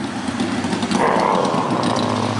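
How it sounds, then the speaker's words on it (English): A chopper motorcycle rumbles past nearby with a loud, rough engine roar that grows slightly and holds through the pass. "Oh, it's a chopper. That's a chopper. Wow, listen to that thing."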